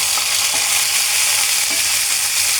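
Chopped onion and three dried red chillies frying with garlic in hot oil, a steady close hiss and crackle with a few faint stirring scrapes, no voices.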